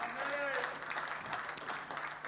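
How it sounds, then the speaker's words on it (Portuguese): A church congregation applauds during a Portuguese-language sermon, a dense wash of clapping that holds steady for a couple of seconds while a tonal sound rises and falls above it. "Se és obediente a Deus, dá um aplauso ao Senhor."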